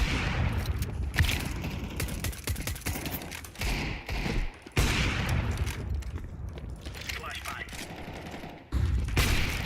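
Rapid Desert Eagle shots in a shooter video game, dense bursts of sharp cracks in quick succession with brief gaps, loud and close, with game background sound running beneath.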